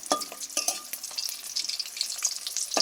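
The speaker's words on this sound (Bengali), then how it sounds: "আবার উল্টে পাল্টে আমি ঠিক এইভাবে ভেজে নেব।" Eggs for a steamed egg curry frying in oil in a pan, a steady crackling sizzle with louder bursts as pieces are turned, no voices.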